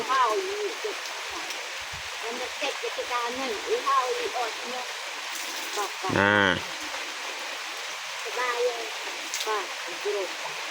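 Steady rushing water from a spring or stream in a misty rural village, running continuously beneath scattered talk and a brief rooster-like call near the middle.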